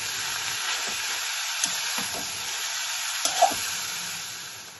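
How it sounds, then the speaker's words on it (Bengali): Cabbage frying in katla fish oil hisses with a steady, moderate sizzle, broken by a few light clinks and stirring scrapes, with no talking. "কপিটা আমি এই তেলের মধ্যে দিয়ে দিচ্ছি"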